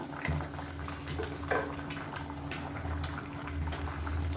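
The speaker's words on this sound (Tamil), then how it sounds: "இப்போ தண்ணி நல்லா கொதிக்க ஆரம்பிக்குது." Steady bubbling and roiling of water boiling in a pot for cooking rice, continuous and close, with a low rumble from the burner underneath.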